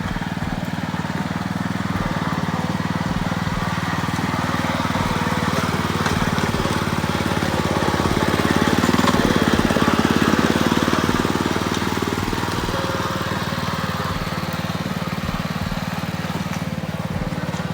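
A tractor engine runs steadily on a steep hill climb, a low continuous drone that swells slightly midway, with faint rattling; no talk.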